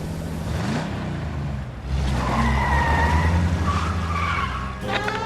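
Car tires skid and squeal during an illegal street race in the L.A. Noire video game, with a long screech over a roaring engine, loud and close, and a brief new squeal near the end.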